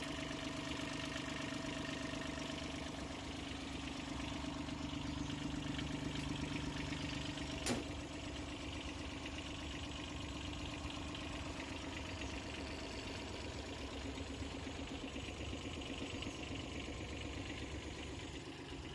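A mini tractor's engine idles in a steady, even rumble that runs unbroken throughout, with one brief sharp click midway.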